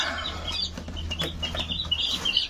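A brood of young chicks clucks and peeps continuously, a busy chorus of overlapping high chirps close by with a low background hum and no talking.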